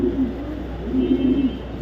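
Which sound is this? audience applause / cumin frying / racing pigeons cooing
racing pigeons cooing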